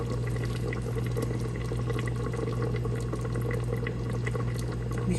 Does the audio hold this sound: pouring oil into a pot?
yes